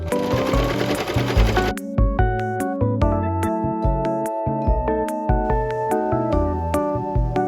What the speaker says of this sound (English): join the two pieces for the bottom ruffle and overlock the seams